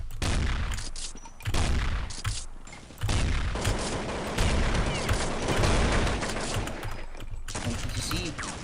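Rapid, loud gunfire bursts from shotguns and other weapons in Counter-Strike, repeated blasts crowding together across the stretch with brief pauses, heavy and close, with some voice underneath.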